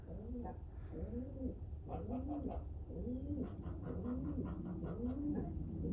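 Black Eagle pigeons, a cock bird among them, coo in repeated rolling phrases, fairly close and moderately soft, with several overlapping calls over a steady low background hum.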